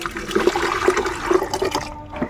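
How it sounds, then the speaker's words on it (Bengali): Potato water pours into a container in a continuous splashing, gurgling stream that runs close and fairly loud for about two seconds, then tapers off. "এই কন্টেনারের মধ্যে এই দোবনটাকে ঢেলে দেবো"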